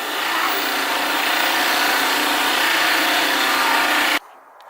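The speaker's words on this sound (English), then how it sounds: "he's got his wire wheel and grinder thingy over here, and he's trying to clean up the old spark plugs" Wire wheel on a grinder scrubbing old spark plugs from a classic E21 BMW, a loud, continuous abrasive whirring rasp held steady for about four seconds, then abruptly cut off.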